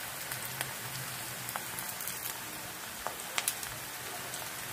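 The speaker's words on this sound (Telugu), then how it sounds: "ఆనియన్ ఆయిల్లో వేస్తాం. ఇది కొద్దిసేపు ఫ్రై అవ్వాలి." Chopped onion hisses and sizzles in hot oil over a high flame, a steady soft crackle with occasional sharper pops, fairly faint and with no talk.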